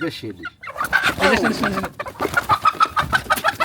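Chickens and a rooster cluck and call close by at a backyard poultry spot, with a rising squawk early on and rapid repeated clucks later, while people talk over them.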